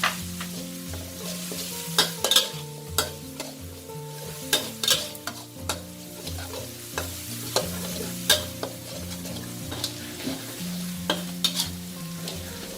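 Food frying in about five tablespoons of hot oil in a pan over low heat for a red pork noodle dish, a soft steady sizzle broken by recurring clicks and scrapes of stirring, with a low tonal hum underneath.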